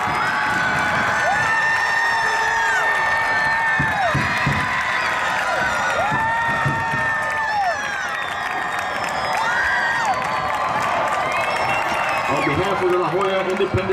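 A crowd cheers, whoops and claps for high school marching bands at a nighttime marching competition awards ceremony, loud and sustained throughout, with children shouting and scattered voices rising above the roar.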